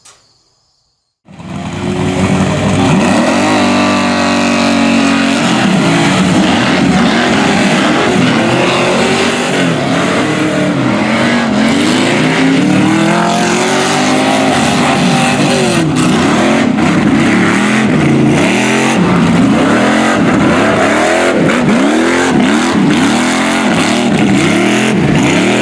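Modified Tuff Truck and Subaru Brat off-road racing: loud, continuous engines revving up and down in repeated surges, with rising and falling pitch sweeps as vehicles accelerate and pass, steady and close throughout with no talk.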